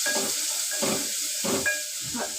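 Onion, curry leaves, ginger and garlic sizzle in hot oil while being stirred, with soft bursts of frying and scraping strokes recurring about every second under a steady hiss.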